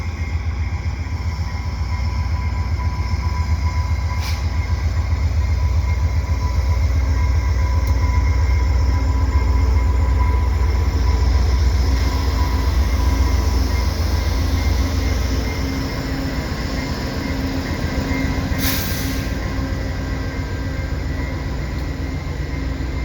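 A long Via Rail passenger train of over 12 cars with two locomotives rumbles steadily past at close range through Dorval station, a continuous low roar of wheels and cars with faint squeals, easing slightly near the end.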